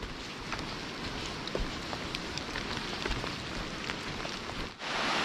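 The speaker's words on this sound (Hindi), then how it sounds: "तो भाई बारिश देख रहे हो कितनी भयंकर लग गई भाई" Heavy rain pours steadily on a mountain trek toward a temple, a dense continuous hiss of drops striking rock and ground, loud and close with no voices, briefly dipping near the end before surging back.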